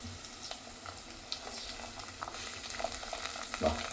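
Carrots and freshly washed green peas fry in a pan, a close, even sizzle with soft stirring scrapes and light clatter over four seconds, without any talking.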